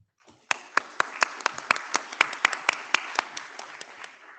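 Audience applause at a lightning talk session of an IETF meeting, a dense spread of clapping with sharp individual claps standing out, building quickly and holding steady at a moderate distance, no voices.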